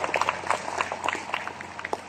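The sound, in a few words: audience applause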